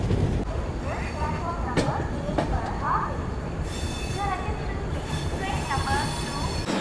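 The 22859 Puri–Chennai Central Weekly SF Express rolls toward Khurda Road with a steady rumble, sharp wheel squeals and occasional clanks from the carriage.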